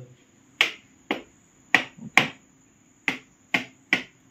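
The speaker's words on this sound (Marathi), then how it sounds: "असं चेचून घ्यायचं" Cut bamboo shoot being crushed by hand for pickle, seven sharp separate cracking thuds at uneven intervals over a quiet background.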